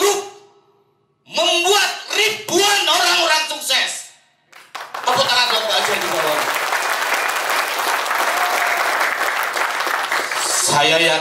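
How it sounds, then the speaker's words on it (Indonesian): Audience applause at an indoor testimonial event, with a speaking voice first, then loud sustained clapping that mixes with speech and builds into a dense, steady roar. "Tepuk tangan."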